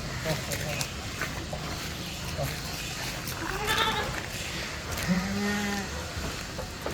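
A few short bleats from young crossbred goat kids, moderately close, heard over a background of people talking at a livestock sale.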